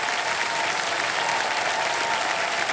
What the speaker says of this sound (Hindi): जोरदार तालियां बज जाएं।